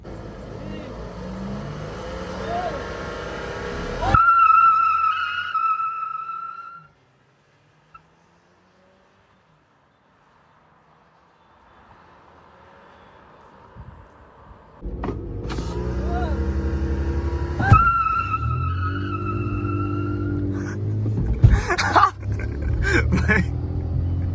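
Skoda Octavia and a Stage 1 VW Vento TSI manual car drag racing: an engine revs with a rising whine, cuts to near silence, then hard acceleration returns with strong rumbling engine notes, shifting pitches and a sharp bang, with a dog barking and voices nearby.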